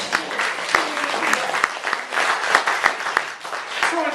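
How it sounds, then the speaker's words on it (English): An audience claps together for several seconds, steady applause filling the room during a speech, with a voice faintly mixed in. "Let's clap for Steve!"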